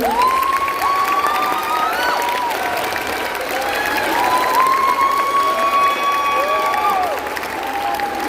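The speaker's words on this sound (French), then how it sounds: "je vous invite tous à applaudir très fort" Crowd applause at a cosplay contest during the Japan Châteauroux 2025 convention: a dense, sustained roar of clapping with cheers, shouts and high whistles riding on top throughout.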